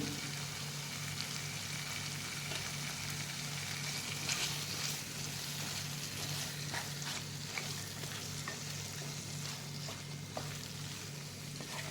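Chicken pieces sizzle and fry in a pan of tomato gravy with butter separating, a steady close hiss with occasional stirring scrapes and crackles, no talking over it.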